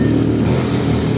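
A motorcycle engine labors loudly and steadily up a steep, dangerous mountain road, a close, continuous drone with no pauses.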